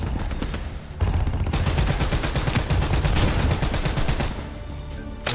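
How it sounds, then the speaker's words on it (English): Rapid automatic gunfire in the Call of Duty Black Ops 3 campaign, dense sustained bursts of shots that are loud and continuous throughout, with a brief dip near the start and no talk over it. "Shots."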